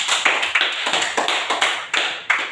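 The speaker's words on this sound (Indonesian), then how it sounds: "mari kita semua tepuk tangan dulu." A classroom of students claps hands together in a quick, uneven burst of repeated sharp claps, fairly close and with no talking.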